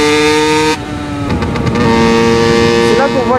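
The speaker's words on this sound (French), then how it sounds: "C'est là qu'on voit à quel point le deux temps, ça résonne." Two-stroke motorcycle engine running without a silencer, loud and close, with a resonant exhaust tone that drops abruptly and then climbs and wavers as the throttle changes, while a voice talks over it.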